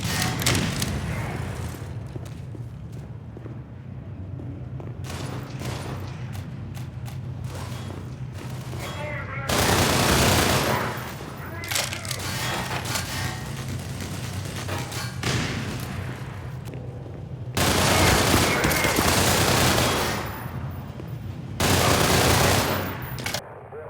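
Gunfire battle between AI marines and enemies in the video game Black Mesa, with sustained machine-gun bursts, heavy thuds and booms rising in loud waves, while someone talks over the fighting.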